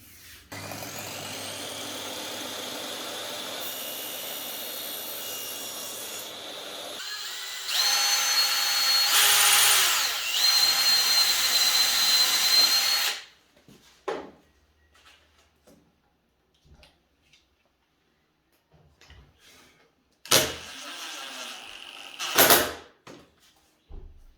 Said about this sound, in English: I'm just going to screw this onto the edges to give it a nice finish.